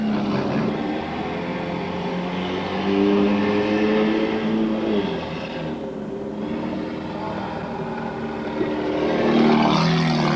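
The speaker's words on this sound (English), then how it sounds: "And there's your race for the number 88 car of Keith Lawson, revving her up for you" A 4-cylinder race car engine, the number 88 car at a racetrack, revving up: a sustained buzzing drone that rises and falls in pitch over about ten seconds, loud and close with no talk.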